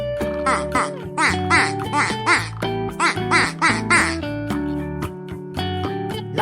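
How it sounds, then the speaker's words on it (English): Rapid, bouncy run of duck-like quacks repeating in quick bursts over a steady, tuneful background, loud and close. "Did you know that ducks' quacks don't echo"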